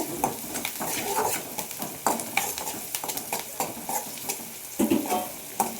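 Onions frying in a pan for a cluster beans stir fry, a continuous close sizzle broken by repeated scraping and clinking of a spatula stirring against the pan, with no talking.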